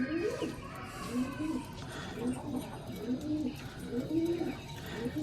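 Domestic desi pigeons coo repeatedly in soft, rolling phrases, close by, with low background noise between the calls.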